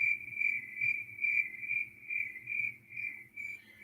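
Crickets chirp in a continuous pulsing trill, rising and falling in a regular rhythm, clear and close against a quiet background.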